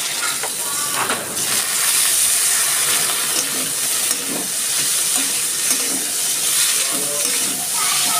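Water lily stems dropped into a hot pan of oil with small green chillies and cumin powder, giving a loud, steady broadband sizzle and hiss that runs continuously, with faint stirring scrapes, while preparing a Bengali water lily and hilsa head curry.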